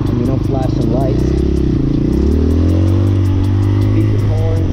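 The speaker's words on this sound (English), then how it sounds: "Beeping horns. Revving engines." Hawk 250 motorcycle engine revving on a night ride before Christmas Eve, close and loud, the pitch climbing and falling in rising pulls over a steady throbbing idle, with someone talking over it throughout.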